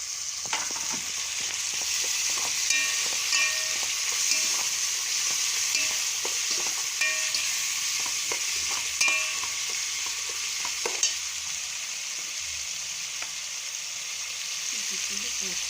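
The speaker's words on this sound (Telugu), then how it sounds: "ఆనియన్స్ టమాటో క్యారెట్ ఇవన్నీ ఫ్రై అయిన తర్వాత" Onions, tomato and carrot frying in a pan while being stirred, a constant loud sizzle with repeated scraping and tapping of the spoon throughout, no speech.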